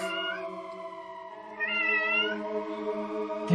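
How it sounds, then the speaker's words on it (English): A cat meows in a long, drawn-out wail, rising in pitch partway through and then holding steady, loud and close, with a second call starting right at the end. Sounds like a cat in the SNES game Terranigma. "There's that fucking cat."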